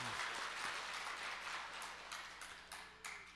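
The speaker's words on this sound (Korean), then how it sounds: "우리 하나님께 한번 감사의 박수 한번 드립시다." A church congregation in Jeju gives a short round of thanksgiving applause, soft and somewhat distant, thinning out and fading over a few seconds.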